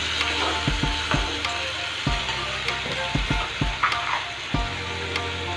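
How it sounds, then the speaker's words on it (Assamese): Two slit green chillies and two spoons of ginger-garlic paste fry in hot oil in a pan, giving a close, continuous sizzle broken by sharp scraping and clinking from stirring. "এইখিনি এতিয়া অকণমান সময় ভাজি ল'ম।"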